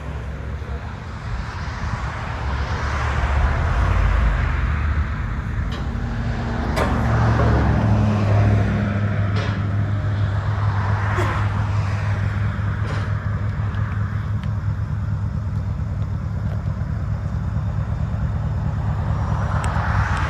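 A Mercedes CLS 550 with a 4.7-litre twin-turbo V8 on straight pipes holds a deep, steady rumble that swells as it spools up and stays loud and droning throughout.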